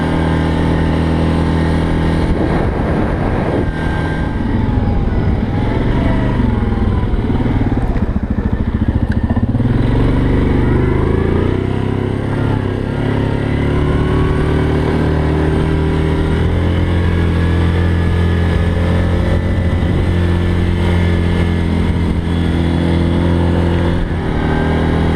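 A steady ATV engine drones nonstop while riding winter trails in about -2 degree cold, low and loud throughout with slight rises and dips in revs, no talking over it.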